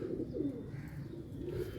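A pigeon coos softly and low in a rolling murmur, close but faint against a quiet background.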